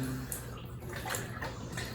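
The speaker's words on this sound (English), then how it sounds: "I'm just going to start with rinsing my hair." Warm water poured over hair to rinse it during a frugal bath using a single gallon of water; a soft, continuous trickling splash close by.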